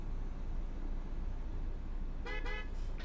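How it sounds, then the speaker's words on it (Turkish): A loud, brassy truck horn on a MAN TGX 2023 in Euro Truck Simulator 2 blares in a few short honks near the end, over a steady engine-like rumble. "Korna baya çirkinmiş bu arada."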